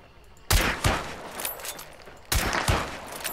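Two sharp bursts of gunfire in the video game Hunt: Showdown, each a quick pair of loud cracks, separated by a couple of seconds of rumbling game ambience.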